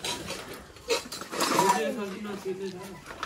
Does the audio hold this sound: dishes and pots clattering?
yes